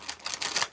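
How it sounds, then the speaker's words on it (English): A deck of tarot cards is riffled quickly in a brief burst of crisp, papery flutters, close and alone. "Shuffle this deck a little bit more."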